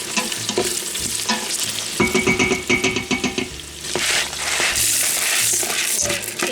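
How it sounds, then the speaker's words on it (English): A spoon scrapes and stirs along the bottom of a pot of Hoppin' John rice and peas, with loud, continuous rhythmic scraping and soft bubbling sizzle close up. "I'm just scraping the bottom, make sure there's no stuck bits of anything on there."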